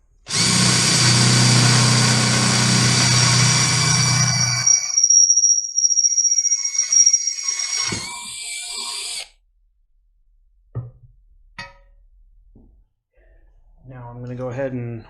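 Power drill boring an oil drain hole for a Miata turbo install, a loud whining drill run for several seconds that slows and stops, followed by a few faint clicks and a brief tonal sound.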